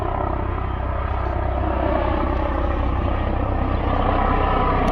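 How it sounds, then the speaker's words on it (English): A helicopter flies overhead, a dense, continuous rotor thrum and engine roar that stays loud and steady throughout, with no voices. "we got a chopper. I thought it was a military chopper."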